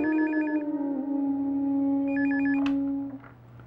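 A phone rings in two short trilling bursts over a sustained musical drone, clear and close.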